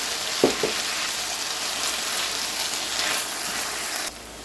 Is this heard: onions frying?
yes